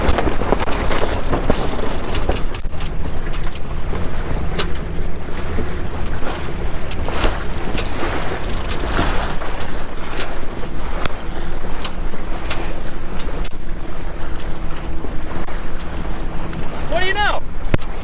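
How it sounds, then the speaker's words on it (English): A Catalina 22 sailboat tacking into the wind, with heavy wind buffeting the microphone, water rushing and slapping against the hull, and a brief creaking or squeaking near the end, loud and continuous. "We're about to do something called tacking. That's when you turn a boat into the wind."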